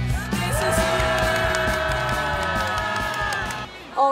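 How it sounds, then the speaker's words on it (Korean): A crowd at an outdoor press conference about homeless people being evicted from an underground passage claps and cheers loudly and steadily, a dense wash of applause with whoops that fades near the end. "여러분 힘찬 박수 함성으로 시작하겠습니다"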